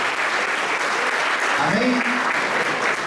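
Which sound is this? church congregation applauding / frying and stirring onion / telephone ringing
church congregation applauding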